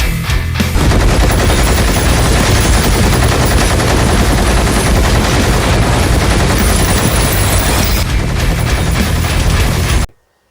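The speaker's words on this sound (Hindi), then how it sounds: "ये देखिए, ये है वो गन मशीन।" A heavy machine gun from a fight scene in the film Animal fires in a dense, unbroken roaring burst for about ten seconds, loud and close, then stops abruptly into silence.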